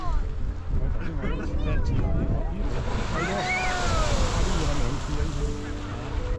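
Strokkur geyser in Iceland erupts outdoors, a loud, broad rushing roar of water and steam mixed with gusty wind buffeting, with people's voices faintly audible in the crowd.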